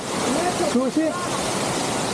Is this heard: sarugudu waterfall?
yes